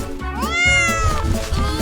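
A cat gives one drawn-out, rising then falling meow, close and clear, lasting about a second, with a faint shuffle before it.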